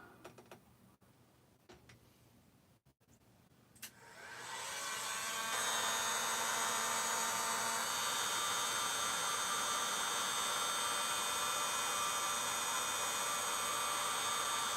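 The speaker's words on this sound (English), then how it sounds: "Time for the heat gun. We've got to do the heat gun." A heat gun switches on after a few quiet seconds of faint clicks and handling, then blows with a loud, steady whirring hiss that continues unchanged, close by, while styling hair on a Michael Myers mask.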